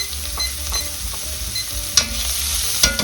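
Onions fry in a hot pan with a continuous close sizzle, broken by the occasional scrape and sharp clack of a utensil stirring them.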